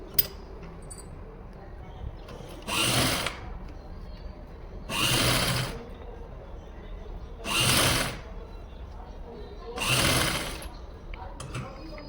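A sewing machine stitches lace onto the back neck of a blouse in four bursts of a few seconds each, with quiet pauses between them and a faint tap at the start.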